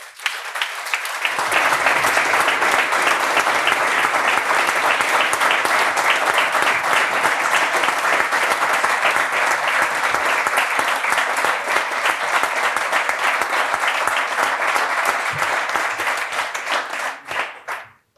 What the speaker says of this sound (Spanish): ha sido el aplauso más largo de lo que llevamos charlando en GAM